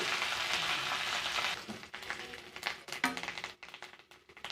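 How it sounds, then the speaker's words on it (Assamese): Banana flower frying in a pan until crispy, starting with a dense steady sizzle that breaks into uneven crackles and light clattering stir taps, close and without talk. "এইখিনি পুৰা মচমচীয়া হোৱালৈকে ভাজিব লাগে।"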